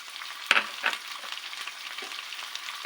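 Boiled chicken tipped into a hot pan for pasta sizzles and fries steadily, with quiet clatters and scrapes of stirring over a soft continuous crackle, no voices.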